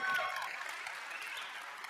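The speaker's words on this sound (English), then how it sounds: "give her a round of applause" Audience applause follows a call to clap for a woman, a brief burst of clapping that starts strongest and settles into a steady, moderately distant patter over two seconds.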